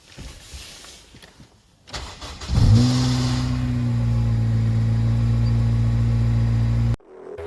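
A Honda Civic Type R, not run in a long while, cranks briefly and fires up, then settles into a loud, steady idle close by before cutting off abruptly.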